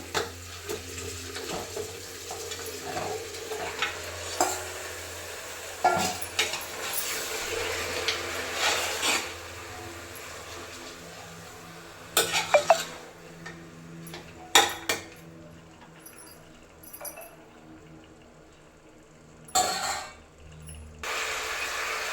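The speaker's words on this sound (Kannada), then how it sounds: "ತೊಳೆದಿಟ್ಕೊಂಡಿರೋ ಮಟನನ್ನು ಹಾಕ್ತಾಯಿದ್ದೀನಿ" Washed mutton tumbles into a cooking pot with wet clinks and scraping knocks of metal on metal, scattered irregular bumps over a watery background.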